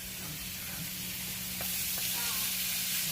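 Ground beef fries in a pan with a continuous, close sizzle and hiss that builds slightly, broken by a couple of soft stirring scrapes.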